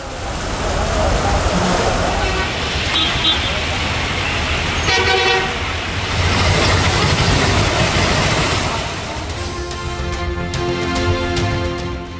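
Heavy summer rain falls during a thunderstorm in Theni, Tamil Nadu: a dense, continuous wash of loud downpour that fills the whole clip. No distinct thunderclap stands out, and a faint tone appears near the end.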